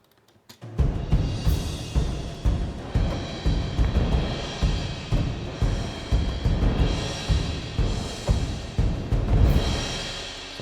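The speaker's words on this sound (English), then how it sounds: "Sometimes if you want things to stand out, you can use cymbals" Orchestral arrangement of a Final Fantasy VII battle theme, full ensemble entering abruptly and driving on with loud, regularly pulsing accents and bright cymbal crashes shimmering over the top.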